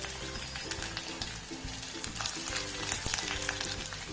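Chopped ginger and green chillies sautéing in a pan, a soft steady sizzle with repeated stirring scrapes over a low tonal hum in the background; no speech.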